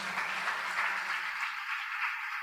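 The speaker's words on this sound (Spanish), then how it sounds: "Dale un fuerte aplauso al Señor." A church congregation applauds during a Spanish-language sermon, a short dense burst of many clapping hands that thins out and fades near the end.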